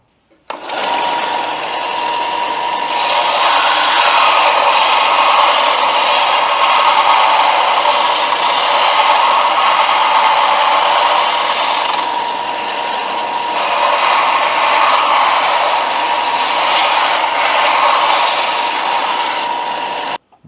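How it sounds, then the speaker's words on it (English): An angle grinder works on a metal hood hinge bracket of a Kawasaki Mule 3010 utility vehicle. It gives a loud, steady, close-up grinding whine that runs for about twenty seconds with slight swells in intensity. "I need to grind a little bit more here at the top before I weld the plate"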